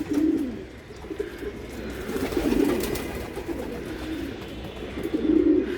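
Racing pigeons coo repeatedly in low, throaty rolls at a loft in Mirpur, Dhaka, several birds overlapping at moderate volume against a steady outdoor hum, during bathing time.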